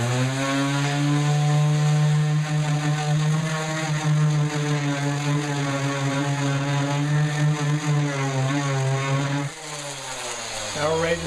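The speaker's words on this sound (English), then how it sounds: "So this is just one that I'm going to sand off all the way down just to fix this" A power sander strips the finish off a kitchen cabinet to remove a scratch. Its loud, continuous motor buzz holds nearly steady throughout, with a brief dip and shift in tone near the end.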